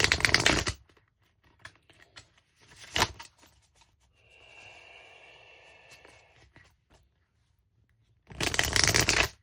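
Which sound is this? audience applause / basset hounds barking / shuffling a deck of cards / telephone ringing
shuffling a deck of cards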